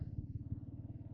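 A Royal Enfield Meteor 350 Supernova being ridden home from the office, its single-cylinder engine thumping in a steady low pulse, loud and close throughout.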